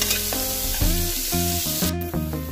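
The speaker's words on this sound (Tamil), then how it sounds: "வெங்காயம் நல்ல பிரவுன் கலர் வர வரைக்கும் வதக்கி எடுத்துக்கலாம்" Onions and green chillies sautéing in a pan until browning, a loud close sizzle with repeated stirring scrapes and tonal clinks throughout, no speech.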